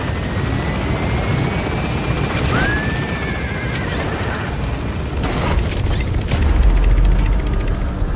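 A helicopter gains altitude in the video game Metal Gear Solid V, its rotor thumping in a loud, continuous roar with a rising turbine whine and a few sharp mechanical clanks layered on top.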